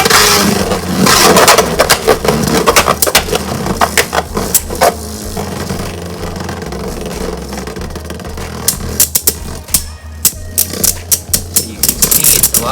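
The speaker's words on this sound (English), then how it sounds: "Of course, it does scrape still." A Tempest Dragon Beyblade, built up as a heavyweight, spins with a dense rattling scrape and clatter, close and loud, with a steady low drone beneath and frequent sharp ticks throughout.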